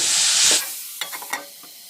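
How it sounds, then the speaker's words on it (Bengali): Amla pickle with jaggery, salt and turmeric being stirred in a pan: a brief hiss of bubbling opens, then several short scraping stir strokes come in quick succession. "গুড় দিয়ে একটু নাড়াচাড়া করে নিয়ে আমি ঢেকে দেবো"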